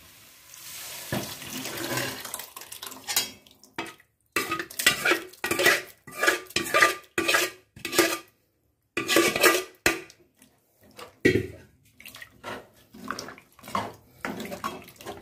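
Cooked toor dal, about 150 g boiled for 20 minutes, goes into a pot for Tamil-style sambar, with wet scraping and clinking spoon-on-metal knocks in repeated short bursts, close by and without talk.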